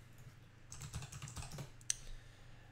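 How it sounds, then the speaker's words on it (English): Quiet computer keyboard typing in a short burst of soft, rapid clicks close by, followed by a single sharper key tap, with no speech. "if you go over to the Windows Store and you just type in Ubuntu"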